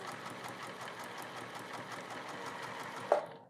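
A sewing machine stitches at a steady, fast, even rhythm close by. The motor hum and needle clatter run continuously and cut off abruptly at the end, with no talking.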